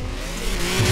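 A VW Golf 4 GTI with dual exhaust in the Forza Horizon 4 video game revs briefly, its engine note climbing steadily and loudly over a short burst.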